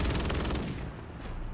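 Rapid shotgun blasts in an online first-person shooter multiplayer match, a dense run of loud, close booming shots in the first half that thins into a rumbling tail.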